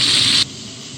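Saltfish frying in a pan for Trinidadian saltfish fried rice, a close, loud steady hiss of sizzling oil that cuts off abruptly partway through, leaving only a faint low background.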